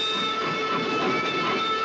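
A train rolls along the rails in an old horror film set aboard a moving express, giving a steady, moderately loud rumble with a faint rhythmic clatter and no voices.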